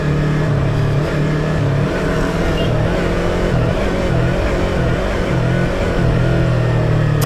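A Yamaha R25 motorcycle engine runs loud and close, holding a steady droning rev throughout while stuck in second gear, with a faint voice underneath.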